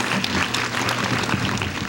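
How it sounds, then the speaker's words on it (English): An audience at a school math contest awards ceremony claps for the winners, a dense, sustained round of applause filling the hall from start to finish. "another round of applause for all of our 5th through 20th place winners."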